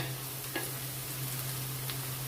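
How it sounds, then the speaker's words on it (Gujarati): Fresh green garlic sizzles quietly in a hot pan over a high flame, a soft, steady frying hiss with a faint stirring scrape or two and a constant low hum beneath. "લસણને આપણે પહેલાં સાતરવાનું છે"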